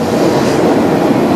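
A CN freight train, an autorack consist led by IC 2725 and CN 2546 locomotives, passing near a road bridge in London, Ontario, with a loud, steady rumble and rolling wheel noise throughout.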